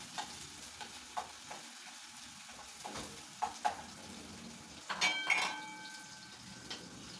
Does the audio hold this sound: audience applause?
no